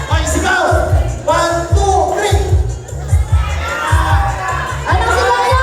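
A crowd of children shouts in unison on cue, loud and close, with overlapping voices and cheering over a pounding music beat.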